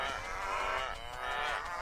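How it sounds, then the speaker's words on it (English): Cows in the video game WorldBox give a couple of drawn-out, close, loud moos in quick succession, alone without any talking. "now releasing some cows"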